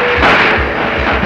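Loud, heavy rifle shots ring out at a Marine Corps recruit qualification range, several booming reports in quick succession with a continuous din between them.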